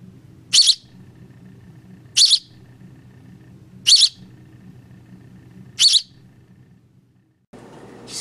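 A tame baby bird gives four short, bright chirps spaced about every two seconds, close and clear over a low background hum, with a brief shift in room noise at the end.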